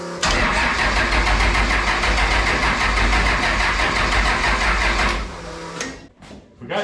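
A triple-turbo Cummins diesel truck engine cranks in a fast, even rhythmic churn for about five seconds, close and loud, then the cranking stops and the engine sputters unevenly without catching cleanly.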